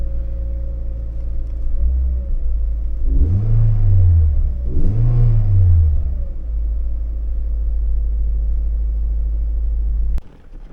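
A car engine idles with a steady low rumble, revving up twice in quick succession before settling back to a constant idle.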